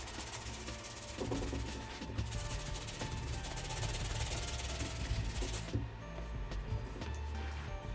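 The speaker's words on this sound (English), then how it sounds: "Medium bristle brush, hitting the toe cap area and the bottom area." A medium bristle brush scrubs the sole and toe cap of a retro Jordan 9 sneaker, giving a steady, close, dry rasping rub that continues without pause and with no talking.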